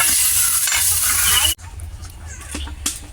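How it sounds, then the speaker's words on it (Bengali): Young jackfruit pieces fry in oil with a bright, loud sizzle that cuts off abruptly after about a second and a half, leaving a quieter background with a few light taps. "এঁচড়গুলো ভাজা হয়ে গেছে।"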